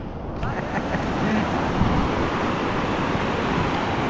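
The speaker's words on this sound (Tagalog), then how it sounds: "Ang laki ng alon." Steady roar of big ocean waves crashing on a beach, with wind rushing across the microphone, continuous and loud throughout.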